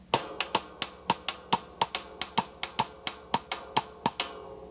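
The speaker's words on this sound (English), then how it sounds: "And with my left hand, I'm playing a clave," Latin palitos rhythm with a clave pattern played on a drum set: crisp, dry, evenly spaced clicks and taps in a steady syncopated pulse, close and alone without voices.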